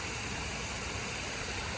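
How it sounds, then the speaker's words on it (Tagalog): Awosting Falls, a waterfall on a hiking trail, roars as a steady, dense broadband rush of falling water, continuous and even throughout with no voices over it. "Ayun yung falls."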